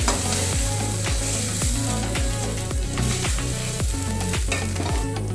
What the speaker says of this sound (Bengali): এই চিংড়িগুলো চিংড়িগুলো দেখুন আমার চিংড়িগুলো ভাজা হয়ে যাচ্ছে